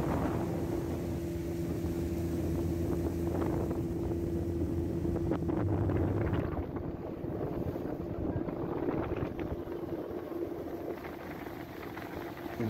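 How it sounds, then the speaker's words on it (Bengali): Another small fishing trawler runs on a river near Dhalchar, Bhola, its engine droning steadily with a humming tone, mixed with gusty wind noise on the microphone and easing slightly toward the end. "এই যে সামনে দেখতে পাচ্ছেন ছোট আরেকটি মাছ ধরার ট্রলার।"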